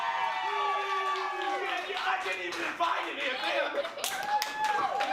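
A wrestling crowd on its feet cheers and claps at a live wrestling event, a steady roar of applause and shouts under a commentator's voice.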